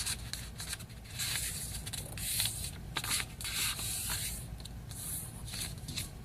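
Paper being folded for an origami rabbit, a steady crisp rustling and rubbing with short creasing swipes, close and moderately quiet, no voices.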